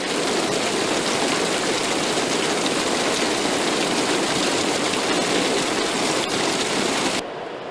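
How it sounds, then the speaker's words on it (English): Heavy rain pours down in a steady, dense roar that stays loud and unbroken, then cuts off abruptly near the end. "We started getting a pretty good downpour."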